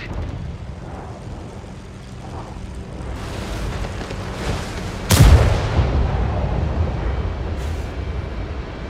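One heavy tank gun cannon shot booms sharply in World of Tanks gameplay, a single loud blast with a rumbling tail over a low engine drone, with no talk.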